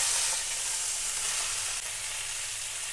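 Greens hit hot oil seasoned with nigella seeds and chili, setting off a loud, steady close sizzle and crackle of frying that continues without letup.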